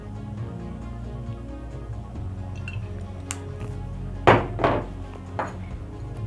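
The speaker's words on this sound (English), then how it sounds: "Place a pan on medium heat." Cast iron pan set down on a stove burner, a few brief metallic clunks and clinks, the loudest near the end, over low kitchen background noise.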